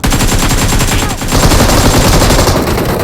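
Sustained loud bursts of rapid AKM automatic rifle fire in the PUBG Mobile game, dense and continuous with a brief dip partway through.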